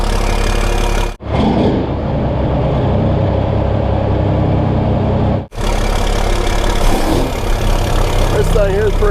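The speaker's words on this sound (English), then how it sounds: "So I'm gonna go ahead and start this one up, get it warming up." A truck engine cranks and catches, then settles into a loud, close, steady idle with a deep rumble, cutting off once and restarting; a voice speaks briefly over it.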